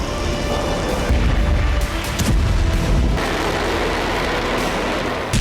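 Loud booming blasts, several heavy explosions in quick succession with rumbling aftermath, harsh and close, no talking.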